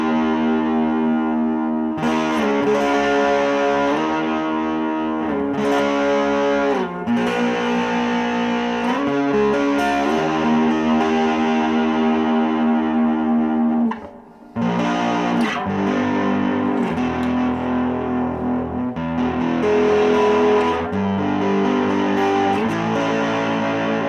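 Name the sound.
electric guitar block chords through amplifier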